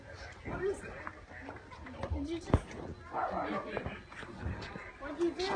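A puppy gives small yips and soft whimpers amid excited chatter from several people nearby.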